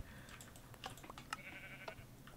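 Minecraft sheep bleat in a quiet game scene, a few short, faint bleats mixed with light clicking as of keyboard typing, no voices over them.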